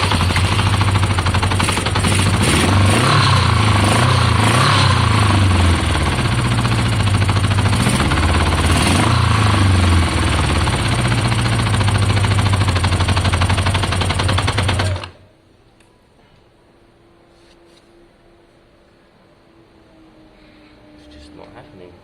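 A Kawasaki ZL600 motorcycle with a carburettor float problem cranks on choke without catching. A loud, rapid, chattering mechanical drone runs steadily for about fifteen seconds, then stops abruptly, leaving near silence.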